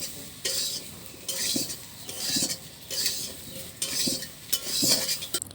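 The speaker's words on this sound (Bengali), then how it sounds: "এবার পরিমাণ মতো তেল দিয়ে দেওয়া হচ্ছে। এরপর হলুদের গুঁড়ো দিয়ে আবার ভাজতে হবে।" Oil and turmeric powder stirred and fried in a pan, with a steady sizzle broken by a series of rhythmic scraping stirs and light utensil clinks against the metal, close and moderately loud.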